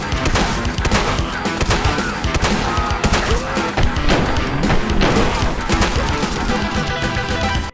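Dense, loud shotgun blasts and gunfire crash through a close-quarters fight against early-game raiders in Fallout 4, with repeated sharp reports layered over constant battle noise.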